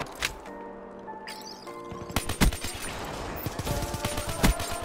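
Grenades launched in a video game, heard as sharp bursts and crashing impacts over about five seconds, with rapid clattering shots and louder booms toward the middle and end.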